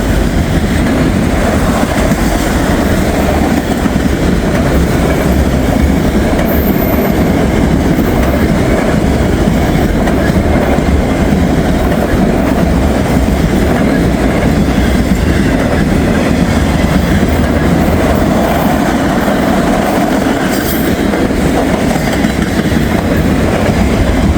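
Freight train cars rolling past a mainline meet, a continuous loud clickety-clack of wheels over rail joints with steady rumble, one car giving a rougher, worrying sound, no talking over it.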